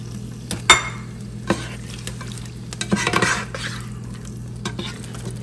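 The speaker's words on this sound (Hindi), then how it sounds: "अब इसको करेंगे फ्राई" Chicken sizzles frying in hot oil while it is stirred, with a few sharp clanks of a utensil against the pan and a steady low hum behind.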